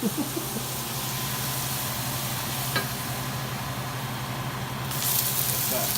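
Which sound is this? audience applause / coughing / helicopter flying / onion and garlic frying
onion and garlic frying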